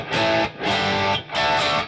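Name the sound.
electric guitar through distortion pedal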